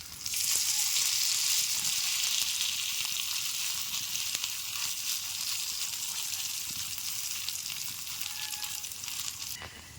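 Cabbage and egg tikki frying on a large tawa, a loud, steady oily sizzle up close that holds evenly throughout, with faint handling sounds and no talking.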